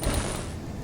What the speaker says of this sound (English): This is the sound of picking up a plasma grenade in Halo 2